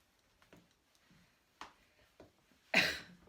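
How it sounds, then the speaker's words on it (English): A single harsh cough rings out near the end, preceded by a few faint clicks and soft rustles in a quiet room. "I do have a cough"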